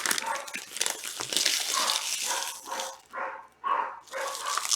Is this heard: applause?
no